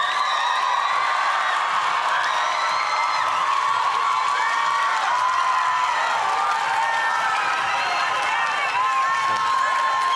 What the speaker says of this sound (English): Let's give a round of applause to